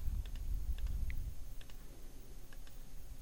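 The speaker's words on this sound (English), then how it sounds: "So use the shift key, keep clicking" A computer mouse clicks while the shift key is held during Photoshop editing, giving several faint, separate taps spaced irregularly over a quiet background hum.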